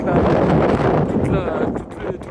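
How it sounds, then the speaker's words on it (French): Strong wind gusting at a coastal lighthouse in Western Australia, a loud broad rumbling roar buffeting the microphone, with a person speaking over it. "Beaucoup de vent par contre."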